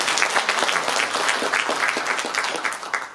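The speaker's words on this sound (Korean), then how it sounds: "다시 한번 박수 보내주세요." Audience applause at a book concert for an election pre-candidate, a steady dense clapping with scattered sharp claps, loud and close throughout with no talk.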